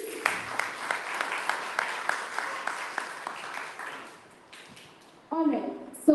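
Audience applause for panelists at a hackathon event: a steady patter of clapping from a crowd, fading out after a few seconds, followed by a voice speaking.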